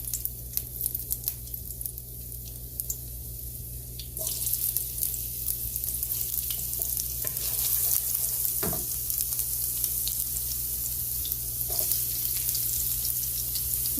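Ginger frying in a pan for a stir-fry of ground pork and green beans, a steady close sizzle and crackle running throughout with occasional clinks and stirring noises, no talking.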